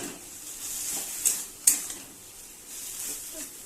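Tender greens cooking with shrimp, green chilli and mustard paste, a soft steady sizzle in the pan punctuated by a couple of sharp metallic taps and scrapes of a utensil against the pot.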